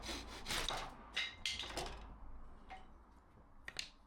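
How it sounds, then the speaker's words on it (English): Strokes of a fine-toothed hand saw cutting a wooden plank, with a run of rasping back-and-forth strokes up close that slow to a few scattered scrapes and taps toward the end. "Use the front of the saw just to sort of get into it first, because apparently the teeth are that bit finer at the front."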